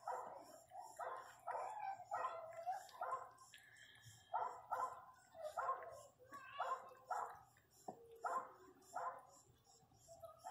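A female pinscher cries loudly while giving birth, a steady series of sharp, high whimpering yelps repeating every second or so, close and clear with little else around.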